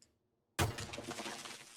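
In the Deconstruction Simulator video game, bricks fall and shatter in one sudden crash that trails into a sustained gritty clatter of breaking debris, with no voices.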